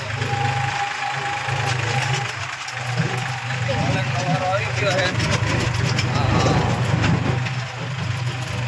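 A tractor engine idles and runs with a steady low rumble close by, continuing throughout beneath people talking.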